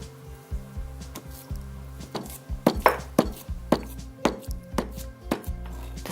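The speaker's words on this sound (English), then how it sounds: "the dates has to be crushed well, so remove the seeds and crush it this way" Pitted dates crushed by hand in a bowl, giving a run of soft, uneven thuds and squishes close by over steady background music.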